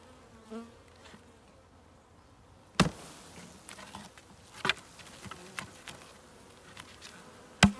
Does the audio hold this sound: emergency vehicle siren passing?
no